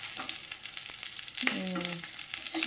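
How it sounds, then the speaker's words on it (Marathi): Potato patties fry crisp in a pan with a soft continuous sizzle, fairly quiet and close, broken by a few light clinks and a brief whistling tone partway through. "छान असं खरपूस भाजून घ्यायला ठेवले मी"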